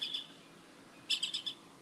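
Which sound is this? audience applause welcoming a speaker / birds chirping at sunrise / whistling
birds chirping at sunrise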